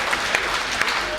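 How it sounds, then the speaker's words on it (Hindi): Audience applause at a Hindi comic poetry gathering (hasya kavi sammelan), a steady spread of hand clapping that runs through the whole short moment with a few sharper claps standing out. "ताली बजाइए हाथ उठा के जोरदार।"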